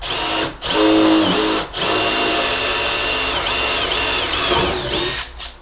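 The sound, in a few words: drilling with a drill bit into a center-punched mark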